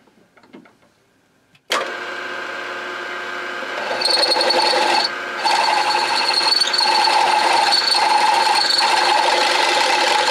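Power drill running a bit through flask hardware in a machine shop, starting abruptly after near silence and holding a steady, loud whine with a slight pitch change partway through.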